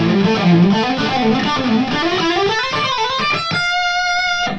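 A distorted electric guitar lead runs through a Marshall JCM 900 amplifier, a loud flowing solo line of bending notes that ends on a sustained, ringing note.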